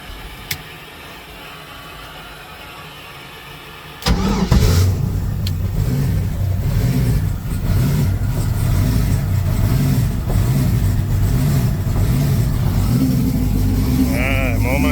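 A car engine with a repaired head gasket and upgraded turbo cranks and catches after a few quiet seconds, then runs loudly and steadily with rising revs for the rest of the clip.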